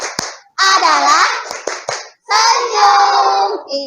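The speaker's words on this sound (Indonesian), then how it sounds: "mari kita bersama-sama tepuk sedekah" Schoolchildren in a classroom doing the tepuk sedekah clapping chant, their voices chanting together in two long phrases with sharp hand claps marking the beat, loud and close.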